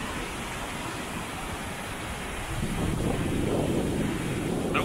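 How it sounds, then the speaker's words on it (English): Wind gusts across the microphone outdoors along a canal near Llangollen in North Wales, making a constant broad rumble that grows louder and rougher partway through. No talking is heard. "Bit windy as well."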